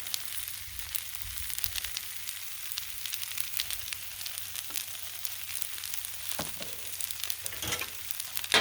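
Turkey stir fry with noodles and oyster sauce sizzling loudly and steadily on a Blackstone griddle, with a few scraping stirs near the end.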